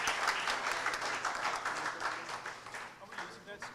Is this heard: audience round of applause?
yes